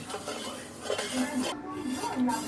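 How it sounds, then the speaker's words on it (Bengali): A spoon stirring sugar and salt into water in a bowl, making close scraping and light clinking against the container in a short continuous run. "চিনিটাকে আমাদের জলের সঙ্গে মিশিয়ে দিতে হবে"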